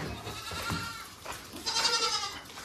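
Goats bleat on a farm in a few wavering, nasal calls, the loudest near the end, at moderate distance with some background noise.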